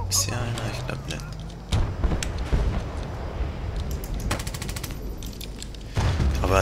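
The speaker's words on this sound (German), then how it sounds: "die MP hier, die knallt schon irgendwie übelst rein von der Stärke" In the Battlefield Bad Company 2 video game, a submachine gun fires in several rapid bursts, loud and sharp, with someone talking quietly between and over the shots.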